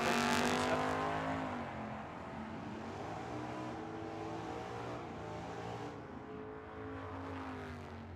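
Drag race at Tucson Dragway between a Torino in the left lane and a 2007 Corvette in the right, heard as a loud engine roar at launch that fades steadily as the cars pull away down the strip.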